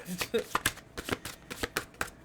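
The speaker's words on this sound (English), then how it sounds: "It's hard to shuffle when there's like 4 cards." A small handful of tarot cards, only about four, shuffled in quick repeated riffling bursts, close and crisp with a steady rhythm of short flaps.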